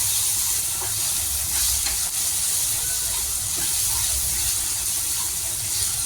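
Spiced eggplant mash with chili sizzles steadily and loudly in a hot pan while being stirred, a continuous close frying hiss throughout with no talking.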